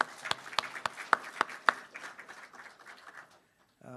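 A short burst of scattered applause, a few distinct claps at first, thinning out and fading quickly to near silence.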